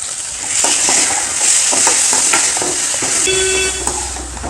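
Chopped tomatoes sauté in hot oil with onions in a pan for a chana masala gravy. A steady, bright sizzle carries on throughout, broken by the scrapes of a spoon stirring, and a brief tonal beep sounds near the end.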